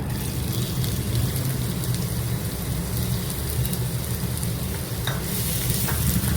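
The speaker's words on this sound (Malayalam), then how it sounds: "ഗോൾഡൻ ബ്രൗൺ വരെ ഇത് വഴറ്റുക." A medium chopped onion sautés in hot oil, making a continuous close sizzle with gentle stirring scrapes and a few sharper clicks of a spoon against the pan, no voices.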